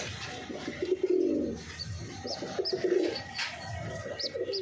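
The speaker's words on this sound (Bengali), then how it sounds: "এই যে কবুতরের বাচ্চাটা।" A pigeon chick gives soft, low, repeated coos at close range, with a few faint higher chirps mixed in. The calls come in short bursts over a quiet room.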